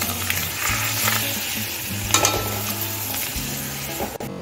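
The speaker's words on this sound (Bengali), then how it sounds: "দেখুন আমার পাপড় ভাজা হয়ে গেছে" Papad frying in hot mustard oil in a kadai, a steady crackling sizzle with bursts of stirring and utensil scraping, close and continuous, with a faint low tone underneath.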